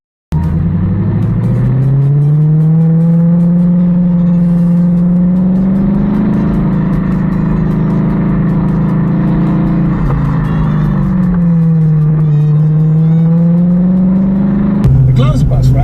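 TVR Chimaera 500 V8 starting up and revving, a loud, deep engine note rising and falling steadily through the clip, close to the car, with a brief blip of another noise at the very end.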